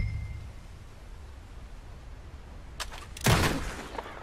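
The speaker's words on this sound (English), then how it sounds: "I'll shoot a few more this time." A short burst of gunfire from target shooting in Red Dead Redemption 2, with one faint shot followed by a louder close crack that trails off, heard alone after a quiet stretch.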